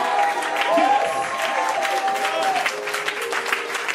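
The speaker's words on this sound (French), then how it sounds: "Tu peux l'acclamer, bien-aimé. Acclame Jésus" A church congregation at an evening worship service in Yopougon applauds and cheers, with steady clapping and crowd noise filling the space, while a sustained voice or tone rises above the applause.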